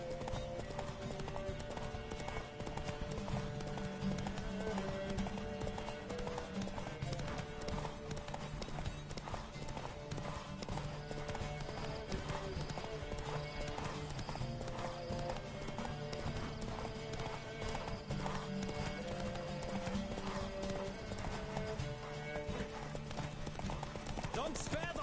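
Horse hooves clip-clop in a steady, rapid gallop throughout Witcher 3 gameplay, a continuous rhythmic beat layered under game music and a voice talking.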